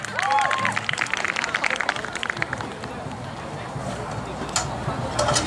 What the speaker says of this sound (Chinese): 掌声一下哦